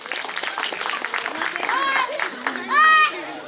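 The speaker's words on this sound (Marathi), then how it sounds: "एकदा स्पॉइल साठी जोरदार टाळ्या परत एकदा" Audience applause at a wedding celebration, a steady wash of clapping with crowd chatter and children's voices mixed in, rising to a louder burst near the end.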